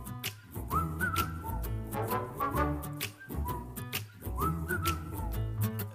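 Whistled melody from a film's title song, carried over music with steady tonal lines and rhythmic backing, continuous and fairly prominent throughout.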